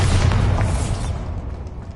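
A Bombarda blast spell goes off in Hogwarts Legacy, a loud, deep booming explosion right at the start that rumbles and slowly fades away.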